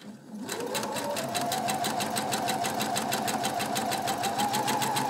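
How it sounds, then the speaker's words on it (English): A sewing machine stitches tote bag pieces along a 1 cm seam, starting after a brief quiet moment. It then runs in a steady, fast, rhythmic whir of needle strokes, close and alone. "using a 1 centimeter seam allowance, I'm gonna sew these up"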